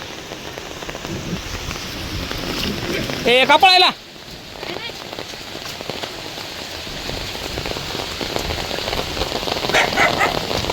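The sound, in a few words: first monsoon rain falling in Baramati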